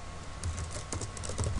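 Typing on a computer keyboard while coding, a fast, steady patter of soft, close key clicks with no talking.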